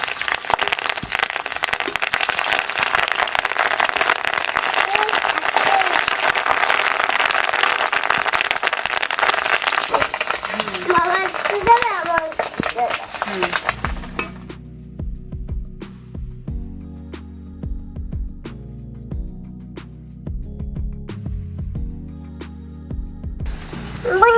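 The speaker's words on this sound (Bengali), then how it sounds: "মাছের ডিমগুলো তেলের মধ্যে দিয়ে ভেজে নেবো।" Fish roe frying in hot oil in a pan makes a loud, dense crackling sizzle for about fourteen seconds. The sizzle then drops away abruptly, and quieter clinks and hum follow.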